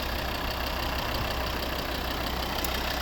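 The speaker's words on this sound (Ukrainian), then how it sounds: "Ось робота двигуна." A 2012 Volvo V70 AWD with the 2.4 D5 diesel and automatic gearbox idles in a steady, even hum and clatter, close up with no voices.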